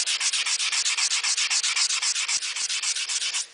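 Stainless steel trim being sanded by hand with 150 grit paper: close, steady back-and-forth scraping strokes in an even, rapid rhythm, about four per second, with no talking.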